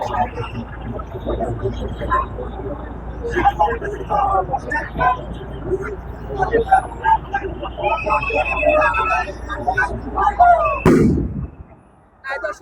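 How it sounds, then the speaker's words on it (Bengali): Sound grenades go off during a police dispersal of marching madrasa teachers at a protest, with repeated booming bursts across a crowded street and a loud blast near the end, mixed with shouting and crowd noise. "আবারও সাউন্ড গ্রেনেড দিয়ে তাদেরকে ছত্রভঙ্গ করে দেওয়ার চেষ্টা"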